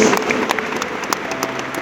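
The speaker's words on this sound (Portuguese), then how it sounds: "Você pode aplaudir o nome de Jesus." A worship congregation claps together in praise during a sermon, a brief, fairly loud burst of crowd applause.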